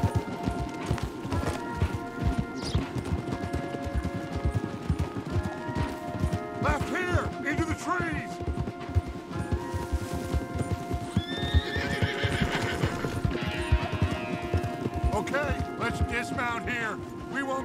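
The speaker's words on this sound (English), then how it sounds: "We won't get the horses down this path." Horses in the video game Red Dead Redemption 2 gallop in a dense, continuous drumming of hooves, with several loud neighs and whinnies breaking through in the middle and near the end, while people talk over it.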